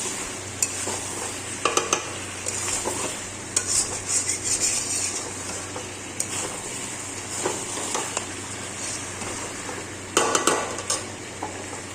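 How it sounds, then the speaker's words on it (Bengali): Whisked sour yogurt being stirred into chicken kosha in a wok, with repeated scraping clanks of a spoon against metal over a steady frying sizzle, close and clear with no talk. "এই টক দইটা আমি দিয়ে দেবো, দিয়ে একটু নাড়িয়ে দেবো"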